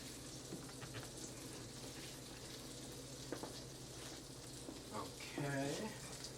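Food cooking down in a pan gives off a steady, low sizzle and hiss throughout, with brief clatters near the end and a louder burst of bubbling toward the close.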